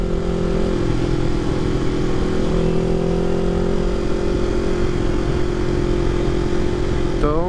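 A Kawasaki Ninja 400 motorcycle engine runs during a test after a clutch swap. Its loud, close, steady drone holds throughout with slight shifts in pitch.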